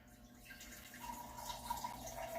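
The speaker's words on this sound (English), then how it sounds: "I'm gonna put this filtered water in there" Filtered water pours steadily into a pot nearby, a soft continuous trickle that rises slightly in pitch as it fills.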